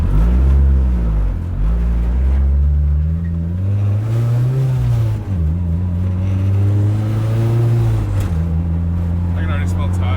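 Car cruising gently along an access road, a steady low engine drone with slight rises and dips in pitch, heard from inside the cabin with people talking over it throughout.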